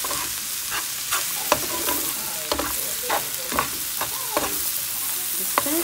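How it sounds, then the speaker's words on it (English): Spinach and shrimp being stirred in a sizzling pan, a steady frying hiss broken by several sharp scraping clicks of the utensil against the pan, close and clear with no talking. "after adding the spinach, just give it a stir"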